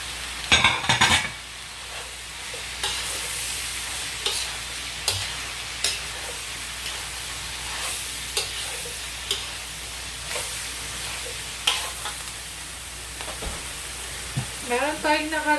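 Celery stir-fried in a pan for pancit canton gives a steady sizzle throughout, with scattered utensil scrapes and clinks against the pan as it is tossed.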